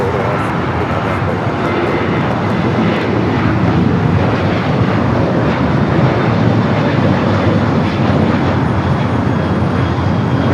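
An airliner takes off from runway 25 right at Los Angeles International Airport, a loud, steady broadband engine roar that holds evenly throughout with no voices.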